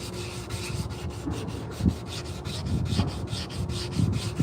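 Sandpaper rubbing over a hand-carved wooden spoon, a close, steady rhythmic scratching in quick back-and-forth strokes with a few louder scrapes.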